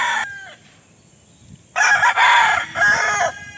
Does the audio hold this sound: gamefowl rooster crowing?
yes